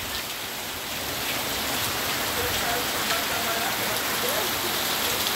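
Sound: heavy rain falling

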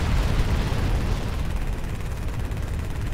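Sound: machine gun fire in the video game MechWarrior: Living Legends

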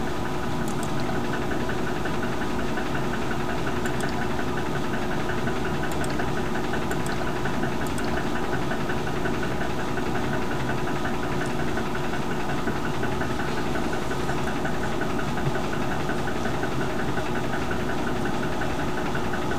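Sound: roller coaster climbing the lift hill

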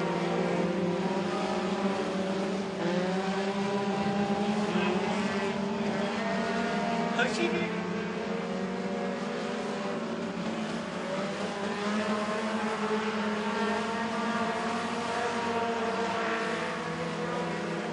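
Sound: race cars running at Crossville Speedway heat race

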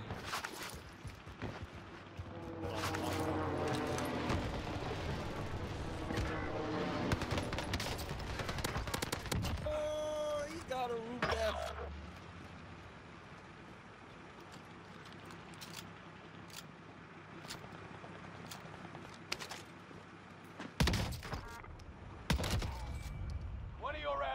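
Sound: sniper shot in the video game Call of Duty Warzone, Rebirth Island

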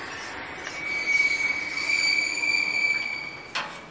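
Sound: 2003 ThyssenKrupp MRL traction elevator running

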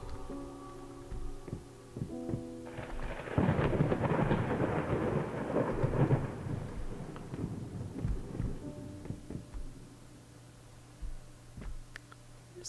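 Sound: thunderstorm and rain in the video game Layers of Fear

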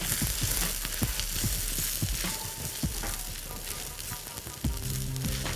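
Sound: stirring vegetable spring roll filling frying in pan

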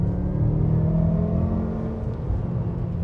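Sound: BMW M5 engine at full throttle in third gear

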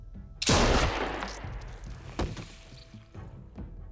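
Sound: gunshot in The Walking Dead video game

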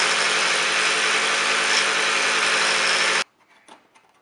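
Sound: grinding metal off an FMU disk

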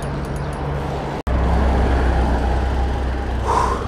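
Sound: traffic on a busy avenue

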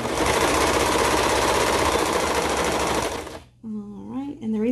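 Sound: serger sewing a seam on a bell sleeve top

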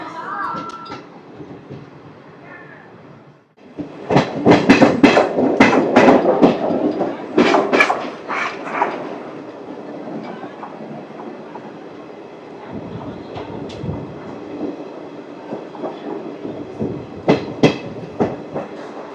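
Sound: Rayagada-Guntur Express train running

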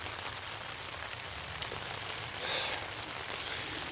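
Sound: rain falling on a tent

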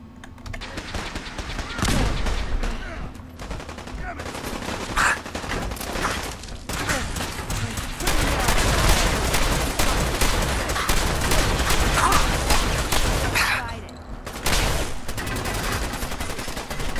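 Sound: gunfire in the video game Fallout 4

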